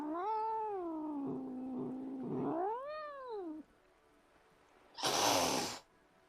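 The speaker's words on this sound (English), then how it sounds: "I heard a meow meow." A cat gives long, wavering, drawn-out angry meows and yowls up close, followed after a pause by a short, sharp hiss.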